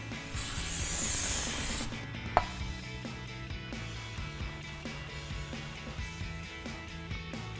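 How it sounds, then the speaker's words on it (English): A clean cloth rubs and scrubs across a brake rotor for a 2012-2020 Dodge Charger, a close, busy scraping with small clunks and knocks and a hissy burst at the start. "Wipe it down with a clean cloth. Make sure you get both sides."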